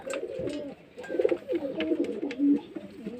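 Pigeons cooing close by on a rooftop on a hot afternoon, several overlapping soft throaty coos in quick succession, no talk.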